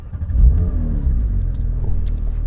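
A Porsche 911 GT3 engine gives a deep, loud rumbling rev that swells early and then holds at a steady throaty drone, close by with no talk.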